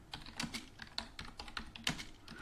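Typing on a computer keyboard to enter a home address, with a quick run of close, crisp key clicks in an uneven rhythm and no talking.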